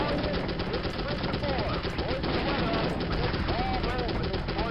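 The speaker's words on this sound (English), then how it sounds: "do some strafing here just to make sure we can use the left machine gun" Rapid machine gun fire rattles steadily in a strafing run in the 1998 video game M.I.A. Missing in Action, a continuous dense clatter over engine drone, with a voice talking over it.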